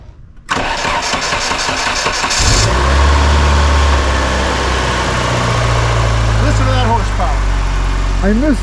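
A 1987 Shelby Charger GLHS with a Chrysler 2.2 engine cranks briefly, catches and settles into a loud, steady idle up close, with a few light revs near the end.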